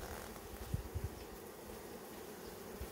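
Honeybees buzzing at a beehive during a colony check, a faint, steady, diffuse hum close by with a few soft thumps, no voices.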